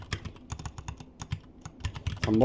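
Rapid clicking of a computer keyboard while typing and pressing Ctrl+N: uneven bursts of close keystrokes with short pauses, then a rising electronic tone at the very end. No one speaks.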